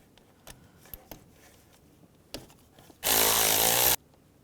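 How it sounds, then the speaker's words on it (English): A 10mm socket and ratchet loosen a nut on a 2002-2009 Chevrolet Trailblazer during exhaust manifold replacement, with a few sharp clicks and knocks followed by a loud one-second burst of power-tool whirring. "Use a 10mm socket, take this nut off right here."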